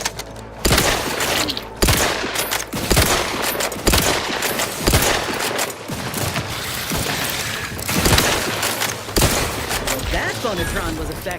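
Rapid gunfire bursts from a weapon in The Outer Worlds 2, loud and close with repeated sharp shots over game music and effects, while voices talk intermittently.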